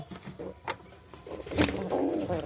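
Pigeons coo softly up close in a loft with chicks: a few low, throaty coos and a brief flutter-like burst, fairly near and unaccompanied by talk.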